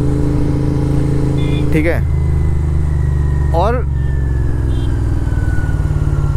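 A Royal Enfield Continental GT 650 with a 650 cc engine runs steadily nearby, a constant low hum that continues beneath someone talking throughout.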